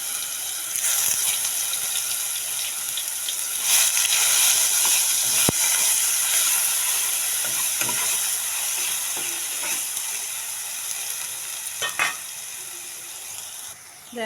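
Ginger, garlic and onion paste frying in hot oil left over from frying eggs for a homestyle egg curry, a steady loud hiss and sizzle with a few faint stirring clicks, no talking.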